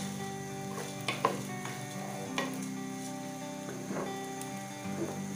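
Rice frying in a pan for Bengali pulao, a soft continuous sizzle broken by a few scraping stirs of a spatula, fairly quiet and with no voices.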